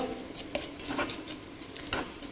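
Butter caramel cooking in a pan, with repeated light metallic clinks and scrapes of a utensil against the pan over a steady background hiss, close and moderately loud.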